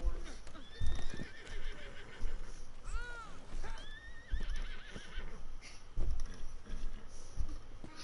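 In a PS4 video game, a horse whinnies several times with rising and falling cries while hooves clip-clop steadily underneath, and players talk over it.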